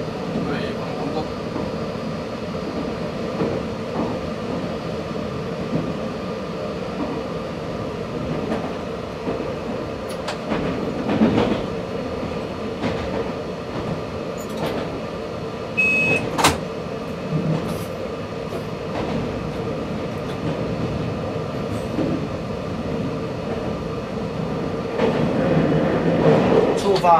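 A Taiwan Railway Taroko Express tilting train runs from Shulin yard toward Hualien, its steady rumbling track noise heard from the cab with occasional clicks and a brief tone, while a voice speaks at times.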